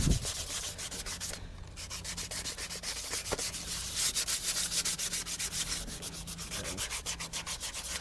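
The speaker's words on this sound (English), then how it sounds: "hand sanding, still one of the best things to do" Hand sanding of resprayed Celica wheels at home: steady, close scratchy rubbing strokes in a continuous back-and-forth rhythm, with no talking.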